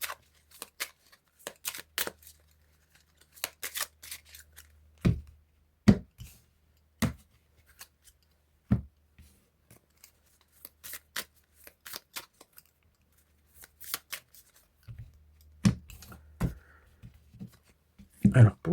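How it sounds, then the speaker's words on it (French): Tarot cards being shuffled in short irregular bursts of crisp riffling and tapping, close and clear, separated by near-silent gaps. "on rebat les cartes"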